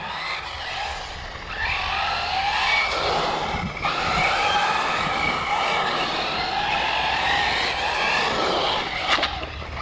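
An ARRMA Typhon RC car on off-road tires drives and turns hard, with a continuous high motor whine and gritty tire scrub that swell and shift as it corners, loud and close throughout.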